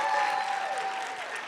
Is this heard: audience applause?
yes